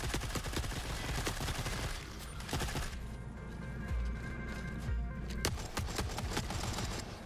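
Rapid automatic gunfire from an M60 machine gun and a C96 pistol in the video game The Forever Winter, dense clattering bursts that pause briefly, then resume with scattered sharp shots.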